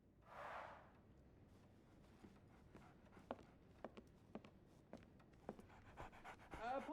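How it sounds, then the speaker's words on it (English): A dog pants in Sherlock Holmes The Awakened, quick soft rhythmic breaths faint in a quiet scene, with light footstep-like taps and a brief voice near the end. "So, Barnes has a dog now."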